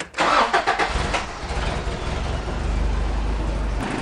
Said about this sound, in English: So now when I turn the car on